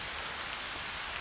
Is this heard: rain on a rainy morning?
yes